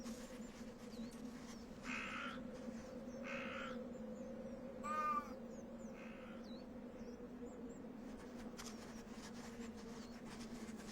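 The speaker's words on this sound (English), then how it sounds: "the call of the wild cat looking for a mate anticipates the thaw" Wild cat calling for a mate in deep snow at Plitvice, a single wavering cry rising out of a quiet, steady hum, with faint bird calls scattered around it.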